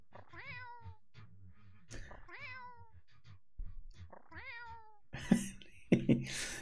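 A video game cat gives three high, whiny meows in turn, each separated by pauses with small clicks and taps, ending in two louder noisy thumps.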